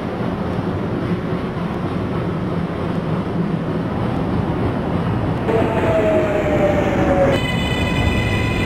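A Manhattan-bound J subway train in the OpenBVE train simulator runs steadily with a continuous rumble of wheels and motors, and a tonal whine rises near the end.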